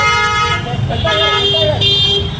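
Car horns toot and honk amid busy street traffic at an old Ghantaghar market, with people talking nearby over the engine noise.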